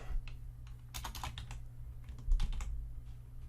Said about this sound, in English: we are going to type this code.